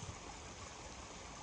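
Spring water trickles out of the ground at a water source just below the Appalachian Trail, a steady close, quiet burble running without pause and with no voices.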